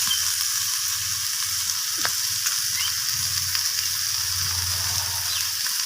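Vegetables and spices sautéing in a pan, a steady, close frying hiss with soft stirring scrapes running throughout and no talk.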